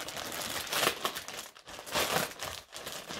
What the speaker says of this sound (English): Let's unwrap it together.